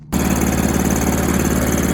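A 5 HP Tecumseh engine on an MTD snowblower starts up and settles into a steady, loud, even idle with a continuous droning rumble and no talk.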